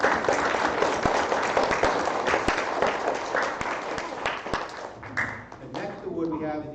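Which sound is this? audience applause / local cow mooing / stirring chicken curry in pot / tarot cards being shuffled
audience applause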